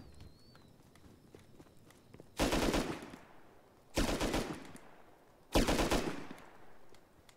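Gunfire in the zombie survival video game Rust, with three loud, separated bursts of rapid shots spaced over a couple of seconds, standing out clearly above quiet background hiss.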